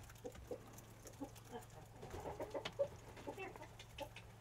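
A hen on a winter off-grid island homestead clucks softly in short, irregular bursts over a low, steady background hum.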